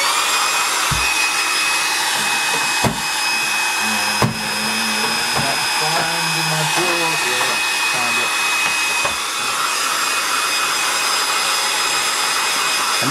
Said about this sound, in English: get my hairdryer again.